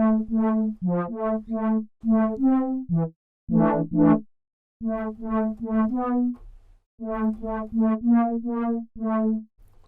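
A Sylenth1 synth lead with added distortion and a closed filter plays a melodic line of short, buzzy, harmonically rich notes in a rhythmic pattern, loud and alone.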